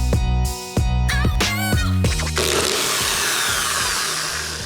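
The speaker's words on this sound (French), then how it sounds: "On va passer à la perceuse pour faire le trou." A power drill fitted with a wood bit bores into plastic, starting in short revving bursts before settling into a loud, continuous grinding whine as the bit bites through.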